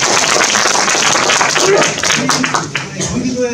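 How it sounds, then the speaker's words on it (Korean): Clapping from an audience at a public residents' hearing on the Line 7 Dobongsan–Okjeong metropolitan railway, a loud dense burst that thins out near the end as a voice begins speaking over it. "저기 자리에 참석해서 박수 한번 쳐주십시오"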